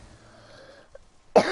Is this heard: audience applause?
no